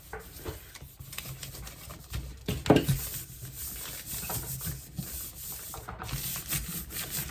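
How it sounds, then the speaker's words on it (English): Paper is rubbed by hand over plant material laid on a gelli plate, giving a continuous soft scratchy friction sound at close range, with one louder scrape partway through. "Rub all around your plant."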